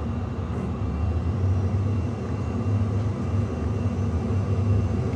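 Airplane engine drone from a home-made Boeing 737 cockpit flight simulator replay, a loud, steady low rumble and whine holding evenly throughout with no talking.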